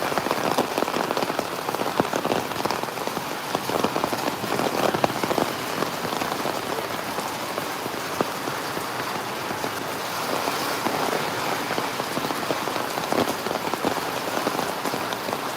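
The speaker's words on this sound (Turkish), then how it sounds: "Burada da başladı bak epeyce bir yağıyor, hızlı yağıyor normalde." Heavy rain pours onto a house terrace, a dense and steady roar of drops hitting the surface close by, unbroken for the whole stretch with no voices.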